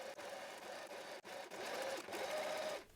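A sewing machine stitches bias tape close to the crease, running in a steady, close whirring hum with a couple of brief pauses and a stop at the end.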